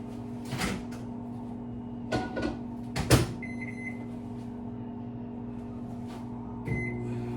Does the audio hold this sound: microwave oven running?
yes